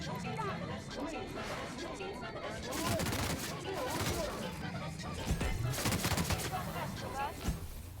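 Rapid weapon fire in The Outer Worlds, clustered bursts that thicken around 3 and 5.5 to 6.5 seconds, layered under constant talking and game clatter.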